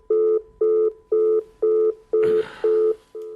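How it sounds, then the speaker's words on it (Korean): A telephone tone beeps in regular short pulses, about seven repeats at an even pace, with a brief clatter over one beep. "그런 다음 전화는 끊어져 버렸다."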